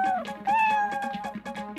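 A brown cat with pointed ears meows several times in close succession, the cries loud and near with no voices around them.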